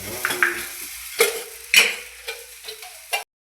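An omelette cooks in a pan, heard as a series of separated spatula scrapes and short sizzling bursts against quiet gaps. The sound cuts to silence at the end.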